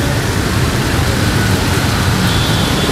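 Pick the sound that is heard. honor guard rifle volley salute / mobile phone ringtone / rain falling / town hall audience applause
rain falling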